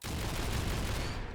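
Automated mounted turrets blaze away in RimWorld, a dense, continuous burst of rapid-fire shots filling the moment loudly and evenly before cutting off.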